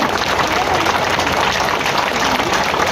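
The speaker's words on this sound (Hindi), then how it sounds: "जोरदार तालियां शिंदे साहब के लिए, जोरदार तालियां" A large crowd at a Mumbai street vendors' gathering claps continuously, a dense, loud wash of applause with cheering voices mixed in.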